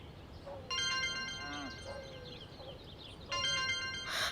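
A melodic electronic phone ringtone plays in two bursts, with faint background voices and a soft chime between them.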